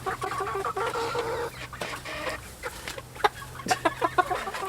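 Several chickens cluck and murmur nearby in short, irregular bursts, with a few sharper squawks toward the end over a low background hum.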